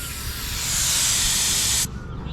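Air hissing steadily out of a Tata Safari Storm 4WD tyre, a loud, close, broadband rush that swells slightly and then cuts off abruptly, with no talk.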